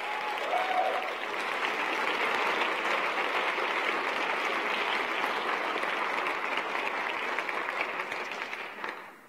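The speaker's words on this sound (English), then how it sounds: "Let's give them another round of applause." Steady, sustained applause from a lecture audience fills the whole stretch, dense and even throughout before tapering slightly at the very end.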